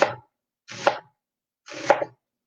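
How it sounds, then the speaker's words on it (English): A knife slices through soy curls in three short, crisp cuts on a board, each one close and distinct, separated by clean silence. "I think I'm just going to slice it along the lines."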